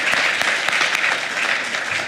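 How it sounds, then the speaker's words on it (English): Church congregation clapping to welcome first-time newcomers at a Lent service, a brief steady round of many hands applauding together, close and even in loudness. "we would love to recognize you with a round of applause"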